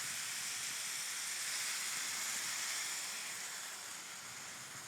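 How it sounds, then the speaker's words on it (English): Blueberries, brown sugar and orange juice cook down in a pan with a steady, even hiss and bubbling simmer, fairly quiet and continuous without talk. "As this is cooking down, I'm trying to break down some of those brown sugar and blueberry."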